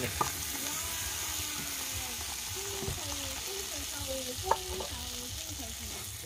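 Food sizzles and hisses in a hot pan, with a sharp splash-like crackle and clatter as fish is dropped in; a person talks over it.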